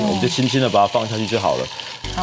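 Yellow croaker fillet, flesh side down, fries gently in a pan over low heat, giving a continuous soft sizzle that runs under a person talking throughout.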